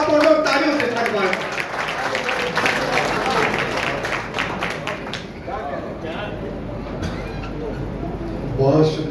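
Audience applause at an Urdu mushaira poetry gathering in Byculla, a burst of hand clapping fading after a few seconds, then a voice speaking at the microphone as the clapping trails off.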